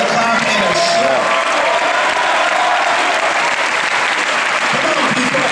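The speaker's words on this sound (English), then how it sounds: "somebody give the Lord a clap and a shout" A church congregation claps and shouts in a loud, steady roar of applause and voices throughout, dense and sustained with crowd cheering mixed in.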